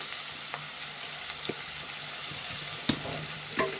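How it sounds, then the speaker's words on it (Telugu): Onions fry in a pan with a steady soft sizzle, broken by a few sharp clicks and scrapes of stirring, heard close with no talk over it. "ఆనియన్స్ వేపుకోవాలి, చూపిస్తాను."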